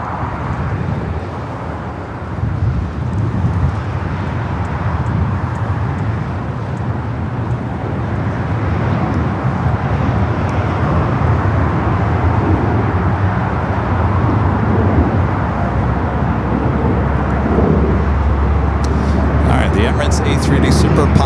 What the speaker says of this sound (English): The American Dreamliner rolling down at 25 right.